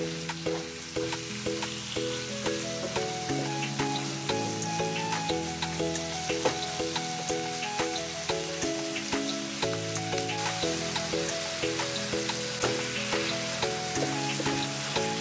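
Chicken liver frying in a pan gives a steady loud sizzle while a utensil stirs it, with many small scraping and tapping knocks against the pan throughout.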